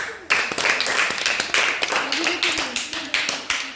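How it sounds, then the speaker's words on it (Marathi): Schoolchildren clapping in a classroom, a loud, close burst of many hands striking with a rough rhythmic pulse, while a voice speaks faintly underneath. "सगळ्यांनी टाळ्या वाजवा"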